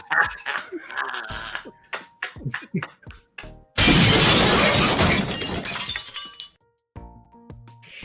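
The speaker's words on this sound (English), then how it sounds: "I'm about to break the glass" Glass is smashed on a podcast set: first a run of sharp knocks and clinks, then a loud, long burst of shattering that trails off into scattered tinkling fragments and brief silence.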